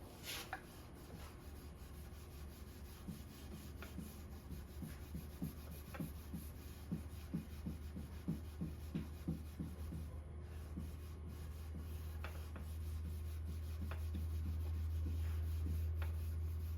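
Steel wool soaked in oil rubs across the wooden surface of a Stickley 913 dresser, a quiet, close rasping scrub repeated in quick back-and-forth strokes, with a low steady hum building underneath toward the end.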